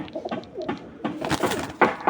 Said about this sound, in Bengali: এক জোড়া রামপুরি, এক জোড়া গলায় লাল, দুই জোড়া পাকিস্তানি কবুতর